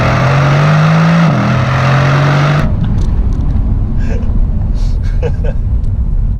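A Mercedes-AMG C63 S estate, a 2019 facelift, launches hard from a launch-control race start on a slightly gravelly road. A loud, rising engine roar climbs for about two and a half seconds, then gives way to rushing road and wind noise.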